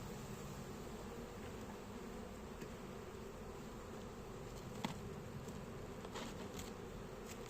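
Steady, dense buzzing of many honeybees at the hive fills the air continuously, close and even, with a few faint clicks and taps.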